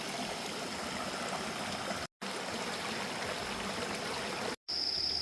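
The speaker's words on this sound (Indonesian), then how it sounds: "air sungainya seperti ini nih kali ya" Mountain river near a village of villas on Gunung Burangrang in Purwakarta, a steady close rush of flowing water with a constant broadband wash, interrupted by two brief cuts of silence, and no voices.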